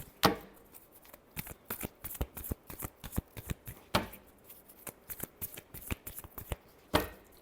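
Tarot cards being shuffled by hand during a reading, a close, quick series of crisp riffling snaps and slaps in an irregular rhythm, with no talk over them.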